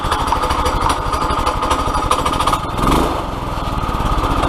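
A Predator 212cc single-cylinder engine mounted on an ATV quad runs on its first startup, a loud, close, rapid putter that briefly rises as it revs before settling back to a steady chug.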